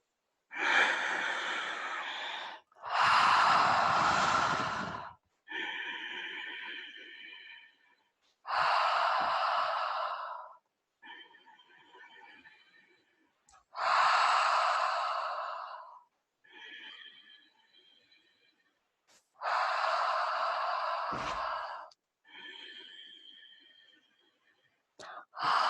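Five slow, deep breaths during a guided group mindfulness exercise, each loud airy inhale or exhale standing alone between stretches of quiet, with a steady unhurried rhythm.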